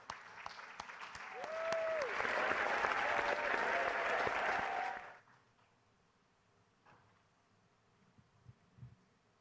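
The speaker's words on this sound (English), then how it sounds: "Bigger round of applause." Applause at an awards ceremony stage event, a dense crowd clapping for about five seconds before cutting off abruptly into near silence with faint room sounds.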